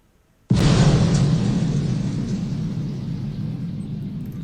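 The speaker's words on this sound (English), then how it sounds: "So that's the explosion." An explosion sound effect bursts in suddenly after a moment of near silence, a loud deep rumbling blast that holds and slowly decays over several seconds.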